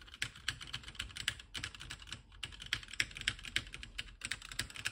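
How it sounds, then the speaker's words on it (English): Rapid, uneven clicking of keys on a computer keyboard, close and quiet, runs continuously with brief pauses during testing of a COMX-35 computer build. "make out that I'm typing text"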